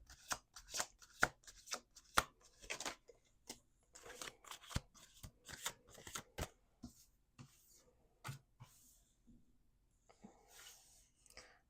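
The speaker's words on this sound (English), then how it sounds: "2 more shuffles." A deck of cards shuffled over and over, crisp riffling bursts and sharp snaps repeating closely in steady succession, fairly near and with no talk.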